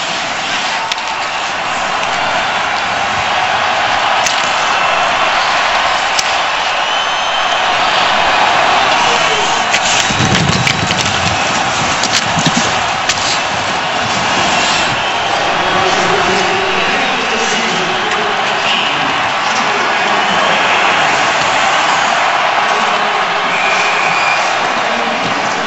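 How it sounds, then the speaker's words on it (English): An arena crowd at a Pittsburgh versus Chicago game roars in the final seconds, a loud, sustained wash of cheering and noise that swells midway and stays dense throughout. "We wanted you to just hear some of the crowd and the reaction there in the last seconds of this one."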